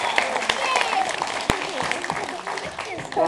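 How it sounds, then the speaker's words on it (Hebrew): Crowd at an outdoor parrot show in a park claps in a lively burst, uneven hand claps mixed with chatter and bird calls, fairly close, with one sharp loud clap standing out midway. "בהחלט מגיעות למותן מגיעות כפיים."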